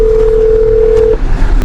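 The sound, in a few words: telephone dial tone while calling a local number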